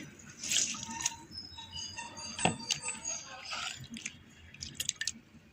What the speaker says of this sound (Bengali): তো এর খোসাটা আমি এখন তুলে ফেলে দিচ্ছি চিপে।